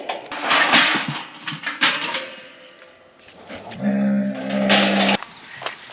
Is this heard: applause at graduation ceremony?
no